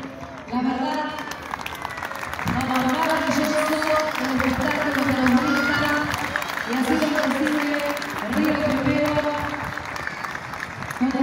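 Outdoor crowd applause at a skydiving show in Rio Primero, Argentina, sustained clapping and cheering under a loud announcer's voice that keeps talking throughout.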